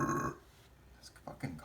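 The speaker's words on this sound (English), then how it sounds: "this fucking coffee makes me burp so much" A single burp after drinking coffee, a short low rumble near the start, followed by faint shifting noise and a couple of small sounds.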